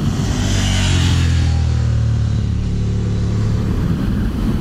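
A Ducati Scrambler Desert Sled motorcycle is being ridden, its engine droning steadily and loudly at mid revs throughout, mixed with heavy wind rush and no talking.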